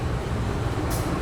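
Sri Tanjung passenger train at Surabaya Gubeng station, a steady low rumble of the train close by, continuous and fairly loud for a brief moment.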